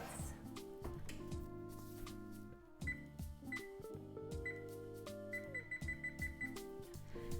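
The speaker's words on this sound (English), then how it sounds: "I'm going to set the timer for 15 minutes." A kitchen timer is set for baking pumpkin spice latte muffins, giving a run of short, high electronic beeps over loud, steady background music.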